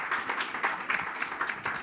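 An audience applauds at a social development ministry event, a brief spell of clapping from many hands heard at a moderate level in a fairly even wash.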